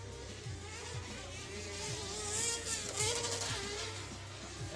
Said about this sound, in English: you hear Corey Weller on the rev limiter there